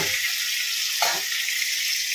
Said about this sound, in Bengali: আজকের পমফ্রেট মাছগুলো বেশ বড়। এখানে ভাজছি